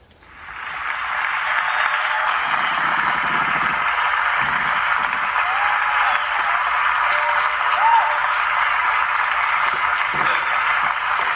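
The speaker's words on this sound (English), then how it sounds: "Please hold your applause" Sustained applause from a large audience at an awards ceremony, a dense, steady wash of clapping that continues unbroken for several seconds.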